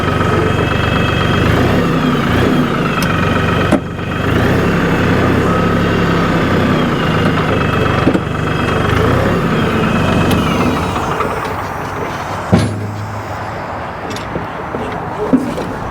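An LS tractor with a gear-driven Shuttle Shift transmission runs while being driven, giving a steady, close mid-pitched engine drone with a few brief knocks and some faint talk.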